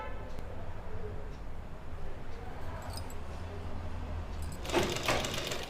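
Sewing machine stitching a kurti suit, a steady mechanical whir running low throughout, with a brighter, louder burst of stitching near the end.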